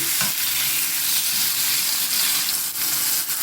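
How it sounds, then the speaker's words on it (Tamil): Tomatoes, curry leaves and small shallots sauté in a pan for chicken gravy, a steady close sizzle running throughout with a few stirring scrapes and no voices. "இது நல்லா வதங்கி வரட்டும்"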